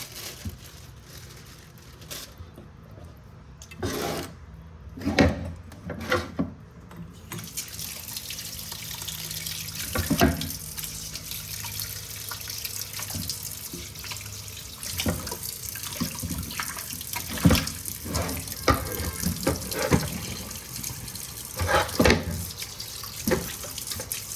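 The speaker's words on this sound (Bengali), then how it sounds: "একটু জল ধোয়া করে নিই, জল ধোয়া করে তারপরেও ভালো করে পরিষ্কার করবো।" A kitchen tap runs steadily while raw chicken meat is washed under it in a sink, with splashing, handling bursts and crinkling noises rising and falling close by.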